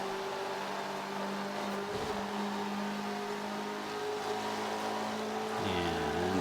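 A car engine in the racing video game Forza 5 revs and accelerates, a steady droning tone that dips briefly, then climbs in pitch toward the end as it winds up.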